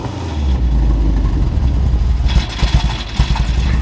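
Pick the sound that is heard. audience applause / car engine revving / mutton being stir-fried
car engine revving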